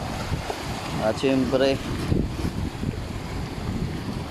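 Boat on open sea at night off Ticao Island, Masbate, during a night fishing trip, with steady wind buffeting the microphone and water rushing along the hull while people talk close by.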